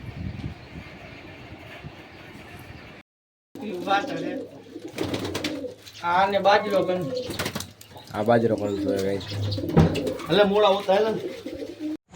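Soft pigeon coos sound close by, mixed with people talking in the foreground.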